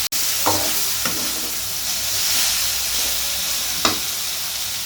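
Sliced bitter gourd sautéing with salt in a pan, a continuous close sizzle with a few stirring scrapes from a spatula.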